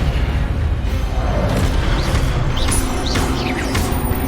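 Spell effects from the Hogwarts Legacy video game: a dense, loud magical burst with booming impacts and shimmering whooshes and chirps layered over continuous game sound.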